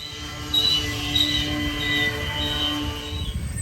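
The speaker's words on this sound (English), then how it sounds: "his brakes are constantly applied to ensure that he has some semblance of control over this massive train" A heavily loaded coal train rolls downhill with its brakes constantly applied, giving a steady metallic grinding and rumbling drone overlaid with high, sustained wheel and brake squeals that waver throughout.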